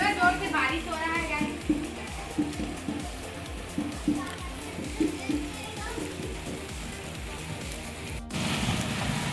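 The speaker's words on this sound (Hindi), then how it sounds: "बारिश हो रहा है" Steady rain patters down over a continuous wet hiss while a person talks throughout.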